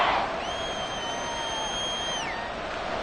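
A football stadium crowd roars steadily and loudly for the whole stretch, a dense wash of cheering with a few high whistles rising above it.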